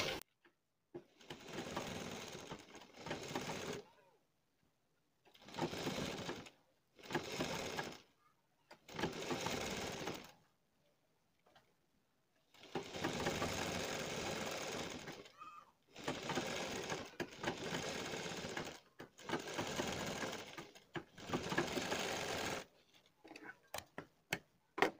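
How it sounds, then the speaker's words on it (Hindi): Sewing machine stitching piping onto a blouse neckline, running in repeated bursts of rapid mechanical whirring separated by short pauses, close and fairly loud. "और सिलाई लगा देंगे।"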